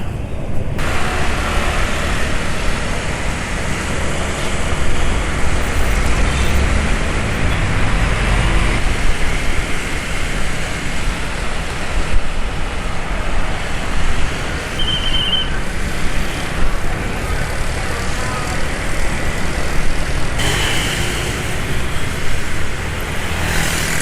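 A motorcycle fitted with a long SILK part rolls slowly on a test ride under light throttle, its engine a steady drone mixed with wind and road noise throughout, with no talking.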